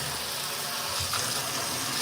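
Steady running tap water splashes over a vintage hat being rinsed, a continuous close gushing hiss with no talk.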